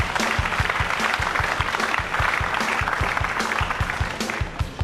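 Applause rolls through the crowd at the 2006 World 9-ball Championship pool match, steady clapping at moderate loudness with a few distinct hand claps standing out near the front, continuing throughout.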